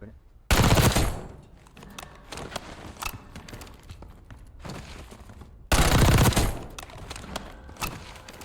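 Two loud bursts of rapid gunfire from the LC10 submachine gun in Black Ops 6, each about a second of dense shots, separated by quieter game sounds and faint clatter; no speech.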